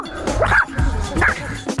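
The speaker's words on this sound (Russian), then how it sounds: "Шпицы весьма шумные." A spitz dog gives two sharp, high yapping barks close by, separated by a short pause, with a whimpery edge between them.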